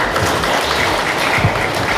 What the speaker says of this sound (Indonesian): Boleh tepuk tangan sekali lagi untuk Kodam 9 Udayana ya